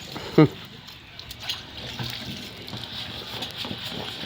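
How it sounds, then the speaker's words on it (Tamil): Water drawn from a tap and poured in a home kitchen while a meat curry feast is prepared: a steady, close rush of running water after a sharp knock near the start, with faint voices in the background. "தண்ணி பிடிச்சி தண்ணி ஊற்றிக்கிறேன்"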